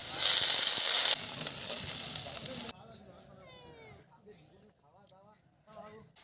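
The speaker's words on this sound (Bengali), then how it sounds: "কলা পাতায় ভাজা মাছ।" Bhola fish frying in a banana leaf gives a loud, hissing sizzle for about three seconds, then drops away as a voice begins talking over a quieter background.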